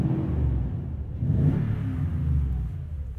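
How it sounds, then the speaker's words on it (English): A 2020 Toyota Tundra TRD Pro idles and revs at startup, its exhaust rumbling low and steady under the whir of loud radiator fans, the engine swelling slightly in the middle before settling. "Got some loud radiator fans up there, but you can definitely hear the exhaust come through."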